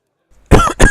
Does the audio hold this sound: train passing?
no